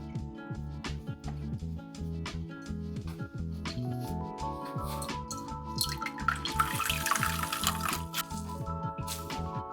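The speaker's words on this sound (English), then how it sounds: "all we have to do is strain the liquid through a muslin cloth" Pandan leaf juice strained and squeezed by hand through a muslin cloth, with steady wet squishing and dripping liquid that builds to a denser trickle toward the end.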